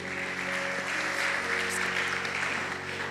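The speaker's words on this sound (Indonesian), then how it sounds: "Tepuk tangan buat Tuhan Yesus, haleluya, amin" A congregation at a Christmas church service claps: steady, dense applause that holds at an even level for about three seconds, close and full, with no voices over it.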